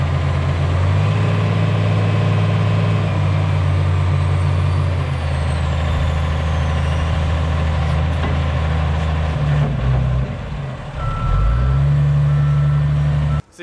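A large quarry wheel loader moves snow piles, its diesel engine rumbling loud and close while a steady reversing beeper repeats over it, with the engine note dipping briefly near the end.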